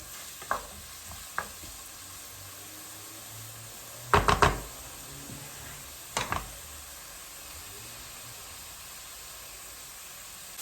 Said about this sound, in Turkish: Soğanlarımız az pembeleşsin. Onun için hemen biberlerimizi dökeceğim.